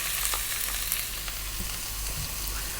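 Onion frying in oil infused with dried chili, steady close sizzle filling the whole stretch with a faint scrape or two of stirring, no voices.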